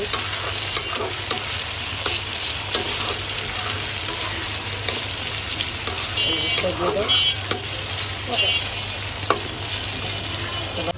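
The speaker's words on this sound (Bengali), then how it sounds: "মরিচ টমেটো দিয়ে দিলাম পেঁয়াজের মধ্যে" Chili and tomato hit hot oil with onions in an outdoor pan, giving a loud, steady sizzle with occasional sharp stirring clacks throughout.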